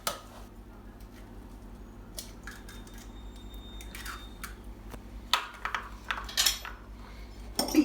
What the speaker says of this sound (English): Beat the egg up.